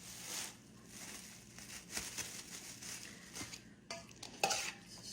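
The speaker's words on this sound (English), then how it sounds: "Stir it around, get it all mixed in there good" A spoon stirs a squash mixture around in a pot, giving soft scraping strokes with occasional metallic clinks against the side, quiet and close with no talking.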